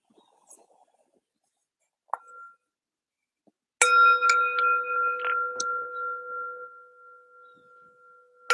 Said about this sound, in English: starting with a bell and a bow